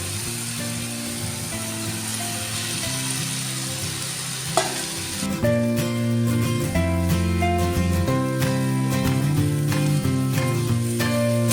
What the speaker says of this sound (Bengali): এখন আমি যে ভাজা ভেজে রাখা আলু আর ফুলকপি ওর মধ্যে দিয়ে দেবো